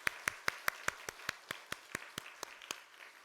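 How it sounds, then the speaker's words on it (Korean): Congregation clapping during a Sunday morning church service, a sparse, regular series of separate claps at an even rhythm, fairly quiet and slightly distant. "오늘 이 자리에 오신 우리 모두를 위해서 뜨겁게 한번 하나님께 다시 한번 박수 올리겠습니다."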